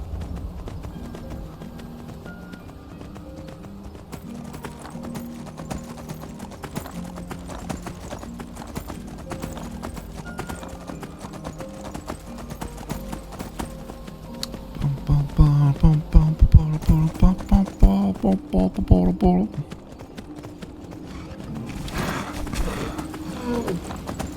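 Steady clip-clop of horse hooves at a trotting rhythm in the video game Skyrim, close by, with a louder stretch of hoofbeats and a brief whinny-like tone partway through.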